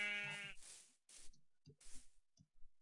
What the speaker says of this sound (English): get another sheep, breed them